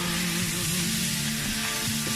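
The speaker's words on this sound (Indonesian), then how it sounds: "Kita tumiskan masinnya." Salted fish stir-frying in a pan gives a steady, close, continuous sizzle with a faint low hum underneath, and no voices.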